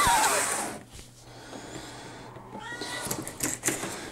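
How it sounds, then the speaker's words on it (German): A cat yowls briefly and faintly at the start, followed by quiet background noise and scattered soft clatter. "Nicht wundern, was da im Hintergrund jault, das ist die Katze."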